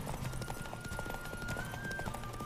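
Horse hooves galloping in the video game The Witcher 3, a rapid steady clip-clop rhythm close up and continuous throughout, with no talking.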